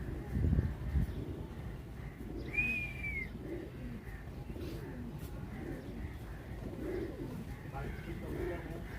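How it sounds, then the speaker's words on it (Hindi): Pigeons coo softly in the background, a few low murmuring calls blended with faint ambient noise and one brief higher chirp, quiet and somewhat distant throughout. "बाकी कबूतर हैं जो अभी सेट कर रहे हैं"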